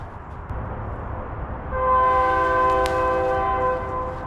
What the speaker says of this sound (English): every hour on the hour dealing with trains going past